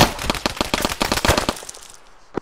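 Rapid burst of gunfire, a quick run of about fifteen sharp cracks close by over a second and a half, then a single far shot after a pause.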